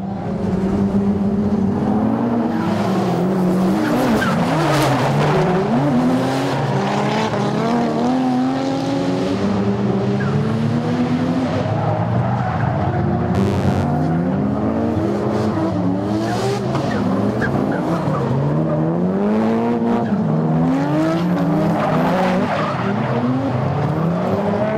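Drift cars at a JDM drift event, including a brown Nissan S13, skid through runs with long wavering tire squeals and revving engines, loud and continuous throughout.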